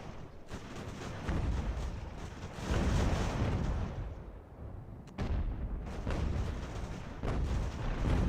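Enemy artillery thunders in the 18th-century battle game Ultimate General: American Revolution, with heavy, rumbling cannon booms rolling one after another in long, overlapping waves of loud, low blasts.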